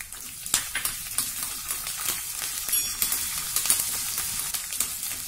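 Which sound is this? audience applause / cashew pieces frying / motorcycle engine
cashew pieces frying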